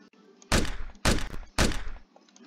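Three loud, booming gunshots go off in a video game, each a heavy blast with a short decaying tail, evenly spaced about half a second apart, with no voice over them.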